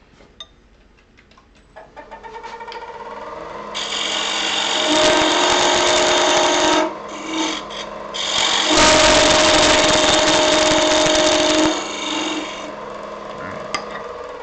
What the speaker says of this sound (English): It's making a little bit more room for the sander.